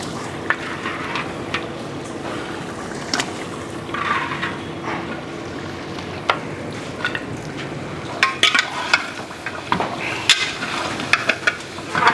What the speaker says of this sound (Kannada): ನೋಡಿ, ಮಾಂಸ ಹಾಕ್ತಾಯಿದ್ದೀನಿ.